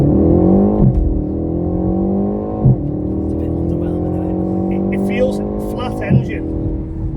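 A BMW M135i or M140i engine drones steadily with a harmonic tone while accelerating, broken by sharp, aggressive gear shifts about every two seconds, with faint talking in the background.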